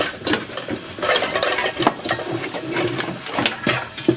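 Clattering metal kitchenware as a medium metal bowl is picked up and handled among dishes, with repeated close clinks and knocks in a busy kitchen where stuffed cabbage is being made.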